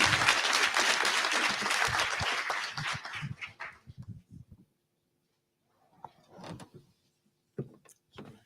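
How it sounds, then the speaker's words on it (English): Audience applause for the University of Mostar at a summit on teaching and student mobility, loud and dense for about three seconds, then thinning into scattered claps before fading into near silence with a few faint knocks. "Big applause for Mostar."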